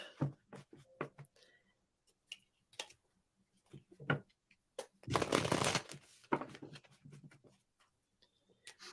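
Playing cards shuffled and handled in a burst of rapid riffling at mid-clip, with scattered soft card taps and clicks before and after in a quiet room.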